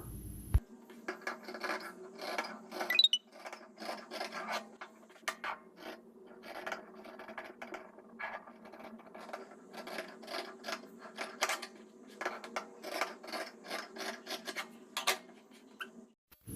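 Scissors or a cutter work through fabric for an umbrella-cut angrakha kurti, giving a steady run of close, rasping snips and rubbing strokes over a low hum, with no talking.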